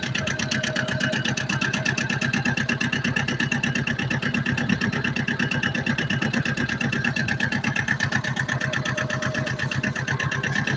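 A tractor grading a dirt road, its mid-pitched engine chugging in a fast, even rhythm that runs steadily and close throughout with no talk.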